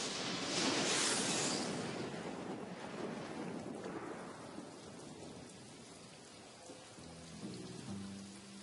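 Torrential rain and a thunderstorm sweep over the Kalahari: a loud roaring downpour with a rolling thunder rumble at the start, which eases into a steadier, softer rain with some low tones near the end.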